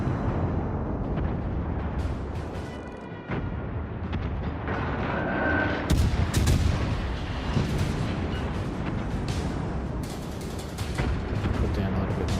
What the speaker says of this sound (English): All stations, concentrate fire on Full broadside.